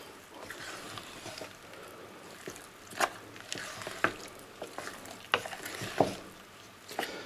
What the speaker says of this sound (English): we're going to mix this into the dough carefully